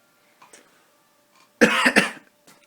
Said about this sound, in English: No, seriously, I did need a cough that time.